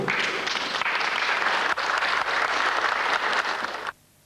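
Sustained applause at a government meeting fills the hall, dense and even clapping that runs for about four seconds, then cuts off abruptly into near silence.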